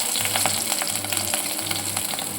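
Garlic and green chilli fry in a pan with a steady, close sizzle and crackle, and faint stirring scrapes recur through the whole stretch with no voices.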